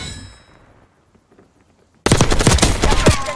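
Rapid automatic gunfire with metallic clangs in Call of Duty Black Ops 6 multiplayer erupts loud and close after a quiet stretch of faint distant shots, continuing as a dense burst.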